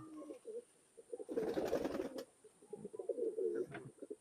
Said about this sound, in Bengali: আমি সাইডে আপনাদের একটু দেখাই যে কবুতরটা কতটা সুন্দর গেটআপের কবুতর।